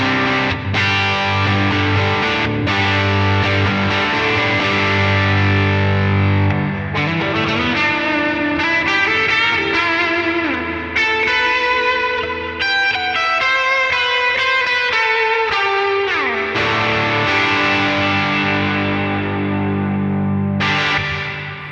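Distorted electric guitar played through a Line 6 HX Stomp with Double Tank reverb, chords and melodic lead lines ringing out loud and continuous with a washy, echoing tail, no talking.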